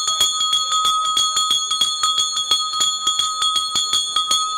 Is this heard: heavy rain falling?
no